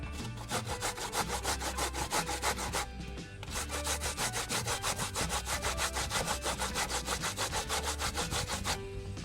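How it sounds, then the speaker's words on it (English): A fresh avocado seed is grated in quick, steady back-and-forth strokes, a dry rasping scrape repeating rhythmically close by with a brief pause partway through. "I'm just gonna grate half of the seed"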